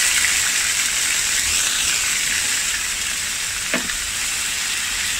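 Ginger-garlic masala and spices fry in hot oil for a vegetable salna, giving a steady, bright sizzling hiss with one brief spluttering pop near the end.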